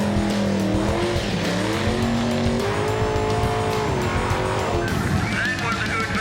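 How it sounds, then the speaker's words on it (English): A car doing a burnout at Powercruise, with a loud revving engine and sustained tire squeal and skidding close by, the engine pitch rising and falling throughout. "That was a good burnout."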